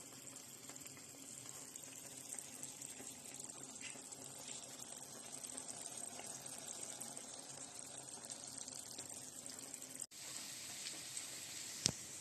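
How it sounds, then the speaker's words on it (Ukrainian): Chicken liver simmers under a lid in a pan, giving a steady, soft sizzling and bubbling hiss throughout, with a brief break near the end and no talk. "І тепер нехай воно прокипить під кришечкою десь хвилинки-дві."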